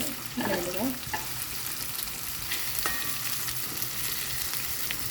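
Okra (lady's finger) fries in hot oil on a medium flame, giving a steady, fairly loud sizzle throughout, with a burst of crackling and stirring near the start as pieces go into the pan.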